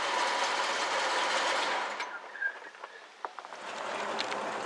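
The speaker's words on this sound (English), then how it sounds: "we're just going to run this El Camino down the road a little bit" A 1968 Chevrolet El Camino engine runs close by as a steady, dense rumble. It drops away abruptly midway, leaving a few scattered knocks, then swells back up near the end.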